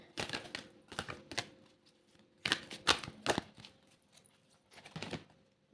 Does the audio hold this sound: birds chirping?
no